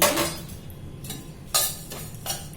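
Spices dry-roasted lightly in a pan without oil for jackfruit biryani, heard as soft scraping and clinking of a utensil against the pan in a few separate strokes, close and quiet.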